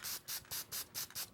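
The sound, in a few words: applying sealer over gold paint on a fish eye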